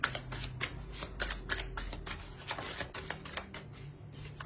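Tarot cards are drawn and laid on a table, making soft papery rustles and light taps close by in a quick, uneven flurry, with no talking over them.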